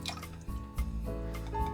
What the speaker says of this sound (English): Pour 300 milliliters of Makaibari Darjeeling tea into the shaker.